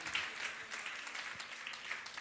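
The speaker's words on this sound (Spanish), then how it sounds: "puedes darle palmas al Rey con todo tu corazón" A church congregation clapping, a faint, dense, continuous patter of many hands heard from a distance with steady level throughout.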